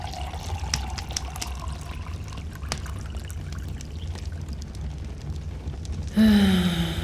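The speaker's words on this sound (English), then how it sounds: "Let me get some hot water started" Hot water is poured into a metal cup at a rainy hiking shelter, a soft continuous trickle over low background noise, ending with a sudden louder burst of rising, ringing pour near the end.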